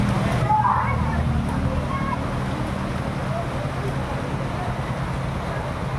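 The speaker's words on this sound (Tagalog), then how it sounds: "Malakas ang ulan dito sa Cotabato." Floodwater pours across a road during heavy rain in Cotabato, a steady broadband rushing roar that continues throughout with no break, while faint voices murmur beneath it.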